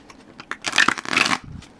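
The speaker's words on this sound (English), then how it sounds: "get one more shuffle in here" A quick burst of tarot cards being shuffled, a brief flurry of papery riffling and slapping close by, then quiet.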